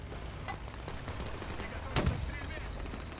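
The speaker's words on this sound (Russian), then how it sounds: "А кто стреляет?" Gunfire in the Men of War 2 World War II game, a few distant shots and a sharper burst near the middle over a steady background rumble, with someone speaking over it.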